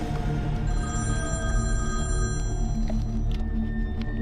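A telephone rings during a scene from the Kannada action film Salaga, repeated electronic tones layered over a dense musical score, with no speech.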